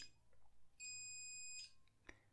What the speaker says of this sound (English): So if I press the switch, it beeps.